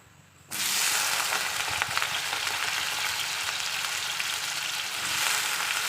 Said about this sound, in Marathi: आता आपण ते बटाटा परतून घेऊ